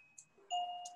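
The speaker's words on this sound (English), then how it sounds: "So it's a doggy doorbell." A dog-activated doggy doorbell rings indoors with a bright, clear chime, a short high tone followed by a louder ringing note that lingers briefly, close by and quiet.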